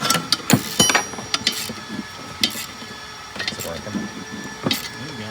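A wrench turns a bolt on a 1962 Ford Thunderbird, producing short ratcheting clicks and metallic knocks in intermittent bursts, close by in a quiet workshop.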